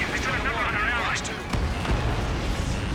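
Air combat in Ace Combat 7 with a missile launched from a jet, a whooshing rush over steady engine roar and radio chatter, followed by dull thuds.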